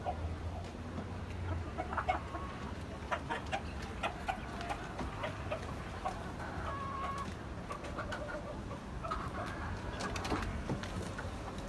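Chickens kept on a rooftop terrace cluck and call intermittently over a steady background hum, with scattered short sounds from the birds throughout.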